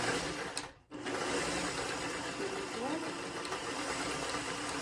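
A sewing machine stitches fabric for a Christmas sew-along project, its motor humming steadily and close for several seconds after a brief stop near the start.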